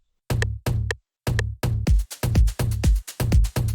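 Offbeat tom drum pattern programmed for an Afro house groove, with close, punchy pitched hits bouncing in a steady syncopated rhythm, some notes ringing long and overlapping, heard alone without talk.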